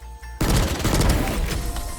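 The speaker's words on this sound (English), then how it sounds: "Another prominent feature of the Bulldog is when you aim down sights, it switches to a burst fire mode" The Bulldog rifle in Valorant fires a rapid burst after a brief quiet moment, loud, close and punchy, with the shots tumbling together into a dense crackle that tails off slightly.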